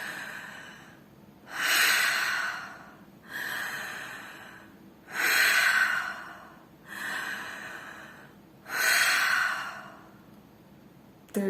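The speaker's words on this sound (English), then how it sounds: "you're going to inhale through the mouth, exhale" Five long, forceful breaths through the mouth, each rising and falling in a steady rhythm with short gaps between, close and loud.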